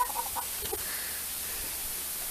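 Backyard chickens give a few soft, close clucks over steady background hiss, brief and alone without talk.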